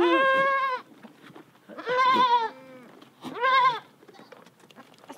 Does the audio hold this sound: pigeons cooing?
no